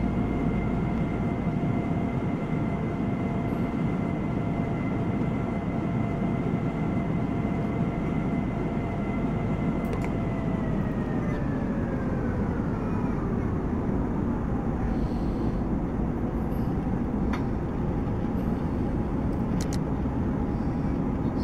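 Airbus A319 in the X-Plane flight simulator, a steady loud engine drone with tonal whine that holds level, then slides down in pitch midway as power is reduced, continuous throughout with no talking.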